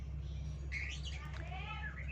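A white-rumped shama (murai batu) gives a short run of bright chirps and whistled notes over a steady low hum, close and moderately clear, with no talk.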